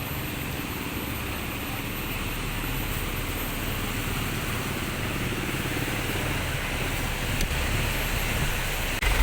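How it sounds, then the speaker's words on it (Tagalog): Water splashes and rushes steadily from a fountain in a flooded street in Pampanga, Philippines, during high tide, a continuous broadband wash with wind-like noise, close and unbroken throughout. "Oh, meron pang fountain dito."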